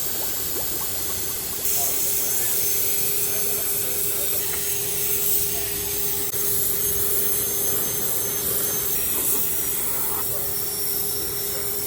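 A spray gun lays primer across a car's engine bay, giving a steady, loud, unbroken hiss that runs the whole stretch with only slight swells in intensity.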